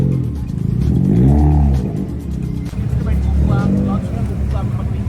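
A car engine revs at a Friday night car meet, rising in a loud roar and then revving again, with people talking over it.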